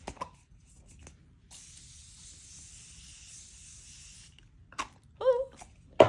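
A makeup setting spray gives one steady hiss of about three seconds during a get-ready-with-me makeup routine, close to the mic, set between brief handling taps in an otherwise quiet room.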